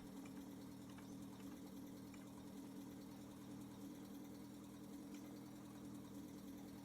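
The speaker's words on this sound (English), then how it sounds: "Okay, this is a stock Skoda engine." Stock Skoda engine running steadily in The Long Drive game, a low continuous droning hum with no break, heard alone without talk.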